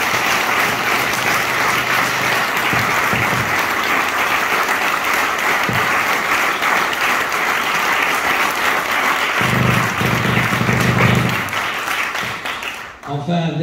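Sustained applause from an audience at an inauguration ceremony fills the room loudly and steadily for over ten seconds, with a few louder bursts and faint voices mixed in before it tapers off.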